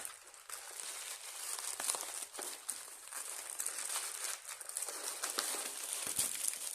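Paper wrapping crinkles and rustles close up as a parcel is unpacked, with steady handling crackles and a few sharper crunches, no voices.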